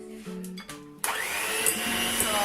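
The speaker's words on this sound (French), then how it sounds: "Donc je prends mon batteur." Electric hand mixer beating a tiramisu mixture, starting with short whirring bursts, then running at a steady, higher whine close by, with faint clinks against the bowl.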